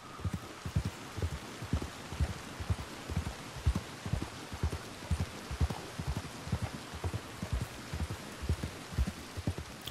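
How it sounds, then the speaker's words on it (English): Steady rain falls in the Red Dead Online game world while a horse's hooves clip-clop in a steady rhythm beneath the soft, even hiss of the downpour. "it must rain so many times in the game"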